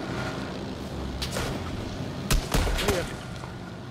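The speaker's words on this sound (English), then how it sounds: "Oh, but there is gunfire at David." Gunfire in the battle royale game PUBG, a few sharp cracks and a short burst of shots from off to the side, heard under continuous low game ambience and players chatting.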